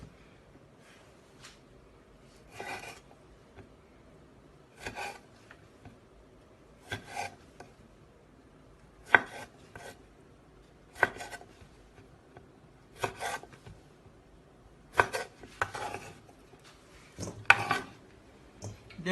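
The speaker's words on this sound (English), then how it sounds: "Then cut my cherry tomatoes into halves." A knife cuts cherry tomatoes into halves, each stroke a short crisp tap against a cutting board, repeating at an irregular pace of roughly one every two seconds, close by with no talking.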